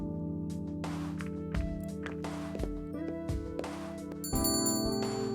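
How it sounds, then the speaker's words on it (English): A shop door bell chimes as the player enters a store in the dragon visual novel Angels With Scaly Wings. Bright ringing tones sit over steady background game music, with a clearer burst of chiming near the end. "I entered the store, the sound of a bell alerting the staff to my arrival."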